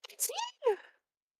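A single quick sneeze with a sharp intake then a short burst, close and fairly quiet, from someone at an indoor tabletop game session.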